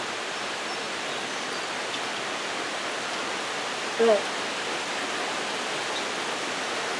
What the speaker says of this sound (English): the rain's really kicking up